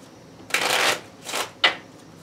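Cards from the Fool's Gold board game being shuffled in three quick bursts: a long riffle, a shorter one, then a brief snap, close up with no voices.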